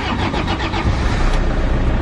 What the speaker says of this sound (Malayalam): ഒറ്റടിക്ക് വണ്ടി സ്റ്റാർട്ട് ചെയ്തു